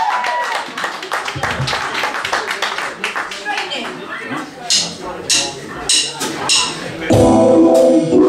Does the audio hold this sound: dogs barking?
no